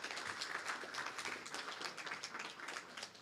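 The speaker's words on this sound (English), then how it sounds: "Might as well applaud Walter while he's walking down" Conference attendees applaud Walter as he walks down to the stage, a soft, distant patter of scattered clapping that stays even throughout.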